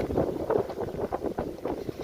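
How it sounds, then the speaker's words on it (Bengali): Strong wind after rain on an outdoor walk in rural Bangladesh, gusting steadily into the microphone as a rumbling, buffeting roar that swells and dips throughout, with no one speaking. "বৃষ্টি হওয়ার পরে এত বাতাস, এত বাতাস"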